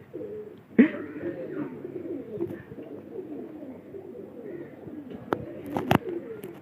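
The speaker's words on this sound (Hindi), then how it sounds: "माशाल्लाह कबूतर उड़ गए हैं सारे" A flock of pigeons takes off from a rooftop coop as neighbouring fanciers release their birds: a sharp flutter of wings near the start, then a steady bed of cooing and wingbeats, and a few distinct claps near the end.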